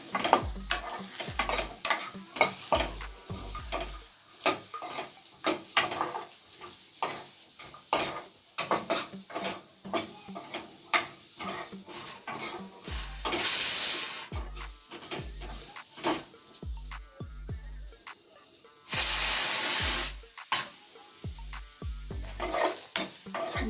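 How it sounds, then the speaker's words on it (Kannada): Radish sizzles in a hot pan while a spatula scrapes and stirs in quick repeated strokes, with two brief louder bursts of hissing. "ಮೂಲಂಗಿ ಈ ಥರ ಫ್ರೈ ಮಾಡ್ಕೋಬೇಕು"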